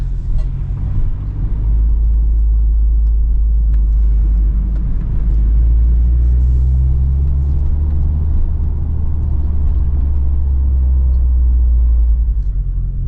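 A 2025 Subaru WRX tS drives laps around a parking lot, heard from inside as a constant deep engine and road rumble with slight shifts in pitch as speed changes, loud and steady with no talking.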